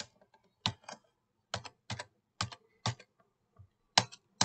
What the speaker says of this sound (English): we're going to type motor